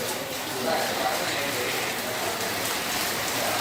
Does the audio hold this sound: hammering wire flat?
no